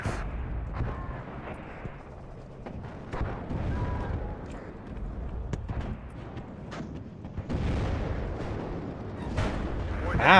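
Distant, intermittent gunfire and artillery booms rumble through a WARNO video game battle, in scattered bursts of varying loudness with no talk over them.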